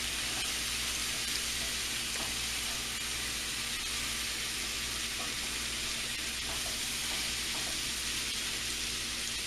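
Green beans fry in a skillet with oil and garlic, a steady, close hiss and crackle of sizzling that continues evenly throughout, with no talking.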